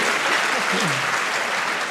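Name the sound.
audience applause at a public conference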